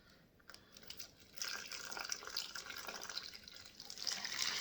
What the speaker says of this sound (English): I'm going to pour in the liquid.